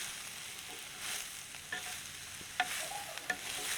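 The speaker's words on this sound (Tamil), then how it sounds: "இந்த எண்ணெய்க்குள்ள கெட்டியாக ஒரு 5 நிமிஷம் கிளறி எடுத்துகிட்டு" Jaffna-style radish curry is stirred in hot oil, a soft continuous sizzle broken by a few light spoon scrapes and taps against the pan.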